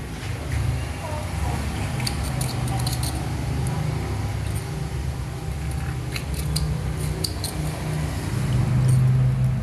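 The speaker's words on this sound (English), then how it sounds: "Those scissors make a really creepy sound." Sharp snipping clicks of kitchen scissors cutting a fish's head off repeatedly over a steady background hum, some snips coming in quick clusters, close and fairly crisp.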